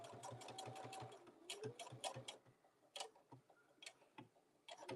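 Sewing machine stitching around the top edge of a crafted piece with the needle set far over, a quick run of rhythmic ticking stitches close up, pausing and restarting in short bursts.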